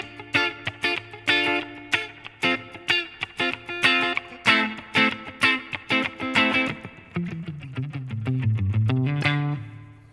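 Electric guitar played through an amp modeler set to a Legacy 63 spring reverb with the decay turned down, giving a Deluxe Reverb character: a run of picked notes and chords, then a sustained low bending phrase that rings out, played alone.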